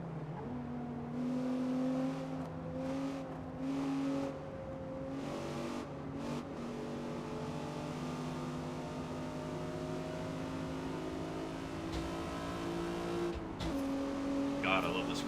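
A Nissan G35 time attack build in Forza Motorsport holds a steady, sustained engine drone at high revs for a long stretch, with a brief shift in pitch near the end, loud and continuous.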